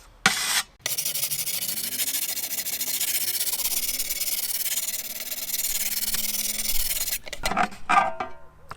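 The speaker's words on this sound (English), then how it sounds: "you'll want to keep your sharpening block moist so that it can flow smoothly over the edge of your spade" A garden spade's edge is honed with a moist sharpening block at about a 45-degree angle, giving a steady, continuous close rasping rub that runs unbroken for several seconds, with a few sharper scrapes near the end.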